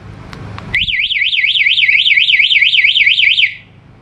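A two-way alarm on an Easyride 150N Motorstar motorcycle sounds after a couple of soft remote clicks: a loud, shrill warbling siren cycling rapidly for about three seconds, then cutting off abruptly.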